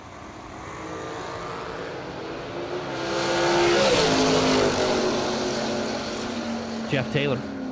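A drag racing dragster from Apache Junction, Arizona makes its run, an engine roar swelling to a peak midway and then holding steady, with a couple of sharp bursts near the end, heard from a distance under ambient track noise.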